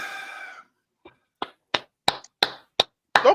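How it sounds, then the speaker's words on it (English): Hands clap in a short series of about seven sharp, close, separate claps, speeding up slightly, following a brief sustained tone at the start. "Don't clap."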